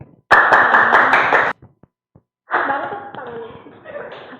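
Audience clapping during a microteaching class on the coefficient of restitution, a short dense burst of hand claps, then a pause and a second softer, rougher stretch of sound that may include voices.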